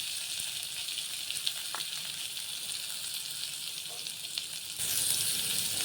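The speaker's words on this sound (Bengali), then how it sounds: "এখন একটু ভেজে নেব" Fish sizzling steadily in hot oil with papaya, salt, turmeric and green chillies for a Bengali kalna, a continuous close crackling hiss that grows slightly louder near the end.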